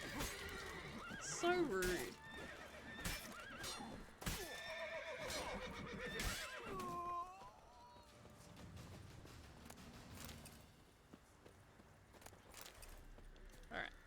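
Roach, Geralt's horse in the video game The Witcher 3, gives a loud whinny and snorts amid clip-clopping hooves and game sounds, while a person talks over it in the middle.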